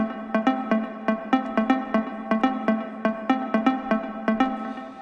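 Plucky synth blip melody built from FL Studio stock plugins for an Afro Tech track, a steady rhythmic pattern of short bright repeated notes over a sustained low tone, loud and alone.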